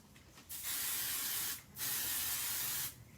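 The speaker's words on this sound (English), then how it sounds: "So I'm just spraying it." An aerosol spray can hisses onto fusible foam for a sewing project, in two loud sustained bursts of about a second each, with a third burst starting at the end, in a quiet room.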